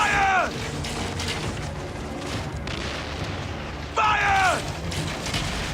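Ship cannons fire in an Assassin's Creed Origins naval battle, two booming volleys about four seconds apart, each with a bright whistling streak, over constant battle rumble and crew noise.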